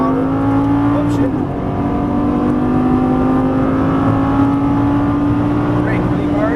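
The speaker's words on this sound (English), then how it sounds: "Fast as you can, full throttle." A Lamborghini Gallardo LP550 accelerates at full throttle on a track, its engine drone climbing steadily in pitch through a gear, loud and close from inside the cabin, with an instructor's voice talking over it.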